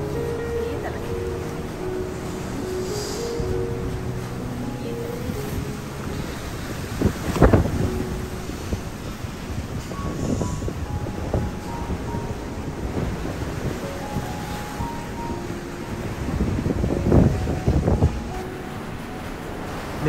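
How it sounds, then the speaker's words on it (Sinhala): Strong wind blows through the Sinharaja rainforest cloud forest near Deniyaya as a continuous, rumbling buffet with swelling gusts and heavy wind noise on the microphone, while people talk under it. "මාර හුලඟක් තියෙන්නේ."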